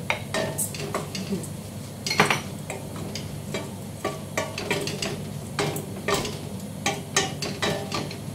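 A spoon scraping and knocking against a pot while orzo sautés, repeated clinks and stirring clatter over a low sizzle, close up and without speech.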